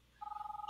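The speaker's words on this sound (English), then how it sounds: "Oh, someone's calling me." A phone in the Roblox Brookhaven game starts ringing with a rapid, trilling electronic ring that begins partway through and keeps going steadily at moderate volume.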